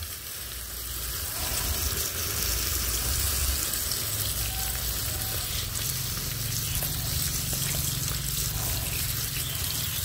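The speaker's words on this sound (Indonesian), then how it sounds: "Siramnya yang banyak teman-teman ya" Water poured steadily over a potted aglaonema, a continuous close hiss and splash of water soaking into the potting mix, lasting throughout with no voices.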